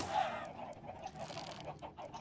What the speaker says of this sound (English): The chicken farm is broken, and there are way too many chickens in here.